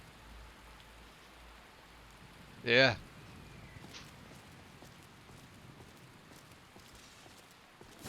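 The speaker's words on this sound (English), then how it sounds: "Ah, it's raining." Steady soft rain falls in the game Skyrim, a faint, even patter with a brief spoken word cutting in midway.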